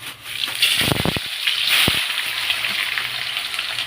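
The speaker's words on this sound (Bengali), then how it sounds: "এখন পেঁয়াজটা দিয়ে দেবো এই যে পেঁয়াজ কুচানোগুলো দিয়ে দিলাম" Oil sizzles loudly as chopped onions hit a hot pan, with a few sharp crackles early on, then a steady frying hiss.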